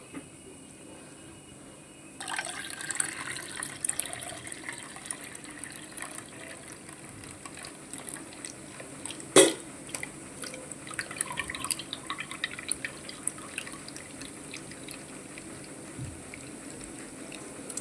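Rinse water drained off washed moong dal in a kitchen, a faint trickle and scattered drips running for several seconds, with one sharper clink midway, quiet and without talk.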